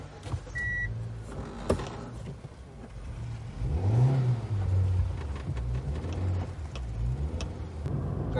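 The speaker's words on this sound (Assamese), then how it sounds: "এতিয়া আমি গাড়ীখনৰ ৰড টেষ্ট এটা ল'ম" A petrol Hyundai i20 with a lit check-engine light and weak pickup accelerates on a road test, its engine note climbing and swelling near the middle before easing back to a steady drone. No one speaks.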